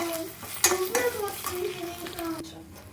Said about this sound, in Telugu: మసాలా బాగా వేగనివ్వాలి